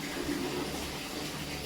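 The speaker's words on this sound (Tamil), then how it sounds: "தண்ணி சத்தம் வேற உங்களுக்கு கேட்கும்." Water running steadily from a home tap makes a continuous, fairly faint rushing and gushing sound with no break.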